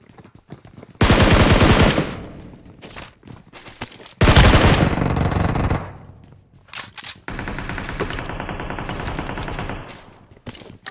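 Automatic gunfire rattles in a ranked online shooter match, three long bursts of rapid shots separated by short pauses, loud and close, with quieter game sounds in between.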